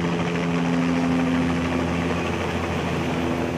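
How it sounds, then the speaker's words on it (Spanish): A police helicopter flies over the area, a steady loud rotor and engine drone that holds level throughout with no voices. "El helicóptero de la policía sobrevoló el sector para tener el control de la zona"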